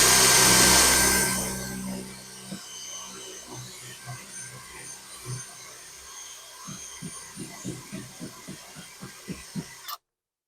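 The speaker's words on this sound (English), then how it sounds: "I'm going to push this against the wood and I'm going to drill straight through" A power drill bores straight through wood, giving a loud, dense whir for about two seconds before cutting out, followed by a string of soft, evenly spaced knocks.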